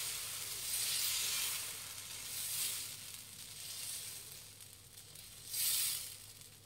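Dosa batter hissing and sizzling on a hot pan as it is spread thin, a soft steady fry with a few louder swells of crackle, heard alone at low level.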